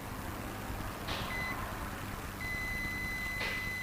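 A multimeter buzzer in diode mode beeps while probing a damaged OPPO A55 phone board, giving faint high-pitched tones: a short one, then a longer sustained one, over low background hum.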